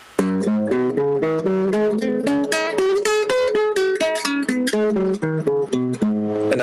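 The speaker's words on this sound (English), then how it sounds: "When you play pentatonics and music sounds like this" A quick run of pentatonic melody on a pitched instrument, note after note in a steady lively rhythm with some chordal support, clear and close for several seconds without talking.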